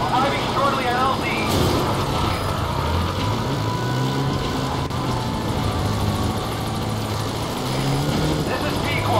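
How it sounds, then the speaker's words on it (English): A support helicopter in Metal Gear Solid V hovers near the landing zone, its rotor producing a loud continuous thumping drone with low engine hum that persists throughout, while voices talk over it. "Support helicopter has arrived."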